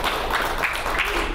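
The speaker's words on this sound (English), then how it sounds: "So round of applause for our organizers." A brief, dense wash of hand clapping fills a conference room as the audience applauds the organizers, steady and close with no talk over it.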